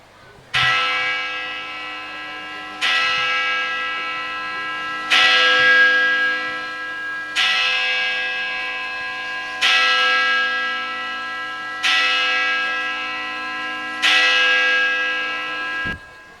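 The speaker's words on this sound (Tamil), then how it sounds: "கோயில் மணி அடித்து மக்களை ஒன்று சேர்க்கணும்" A large church bell at Konankuppam tolls seven times at a slow, steady pace, each deep, ringing strike fading before the next, with no other sound.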